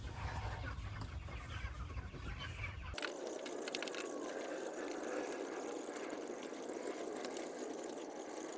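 Backyard chickens being moved on foot: soft clucking rises over a low engine-like hum, which cuts away after about three seconds, leaving quieter fowl sounds and rustling.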